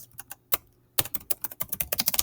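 Fast typing on a computer keyboard, close and crisp, starting with scattered taps and then a brief pause before a dense, steady run of rapid keystrokes.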